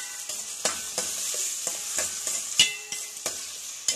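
Onions and curry leaves sauté in a pan for sprout curry, a steady close sizzle broken by regular scraping stirs of a spoon, with no talking.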